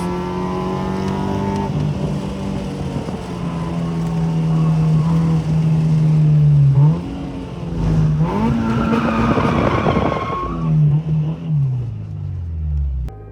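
Front-wheel-drive car on a race track, engine droning and shifting pitch through a spin, with rising tire squeal and skidding near the end; loud and continuous, no talk.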